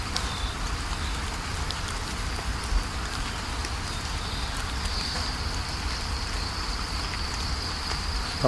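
Steady, dense heavy rain hisses continuously over a rubber plantation, a heavy wash of drops with no pauses and no voices.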